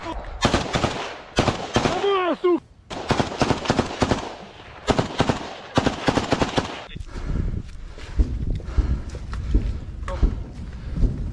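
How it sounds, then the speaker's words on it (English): Heavy, close gunfire in real combat between Ukrainian and Russian soldiers: loud, dense automatic bursts and single shots in quick succession, with a brief shouted voice and a distant, rumbling exchange of fire later on. "Russian soldiers fold under heavy fire from Ukrainian side."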